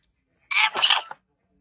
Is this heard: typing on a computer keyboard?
no